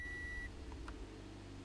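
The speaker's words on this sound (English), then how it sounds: "When the operation is finished, a beep sounds and the operation indicator light illuminates." A single steady electronic beep from the power retractable hardtop control of a 2013 Mazda MX-5 Miata sounds at the start, then stops, leaving low-level background hum.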